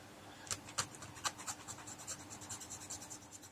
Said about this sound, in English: So I've got this little peg here for the regular sword, so cut that off. And get the file out.